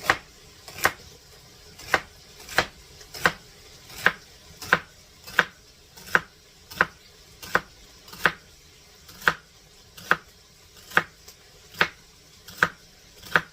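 A knife chops ingredients for Louisiana jambalaya on a board in about twenty steady, evenly spaced thumps, close and crisp, with no talking.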